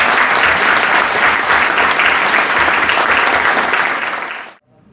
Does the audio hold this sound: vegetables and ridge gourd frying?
no